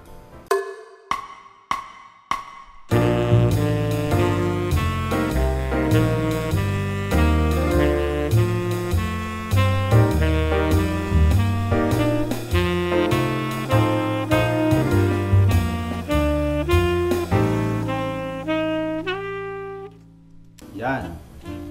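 Saxophone sounds single chord tones one after another in a steady run, each note separate, continuous and up close with no talk over it, after a few short opening blips and ending with a brief pause.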